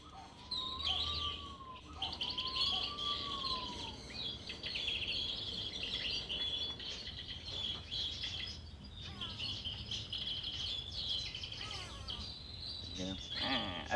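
Birds in an aviary at Discovery Cove, Florida, where a Lady Ross's turaco perches in a tree, call and chirp with clear repeated whistles and warbles, near and fairly loud, over an open-air background murmur.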